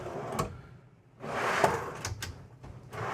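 A few soft clicks and knocks, then a smooth sliding rumble as a push-to-release pantry drawer glides open in a 2023 Newmar New Aire 3547 motorhome, with a couple more light clacks near the end.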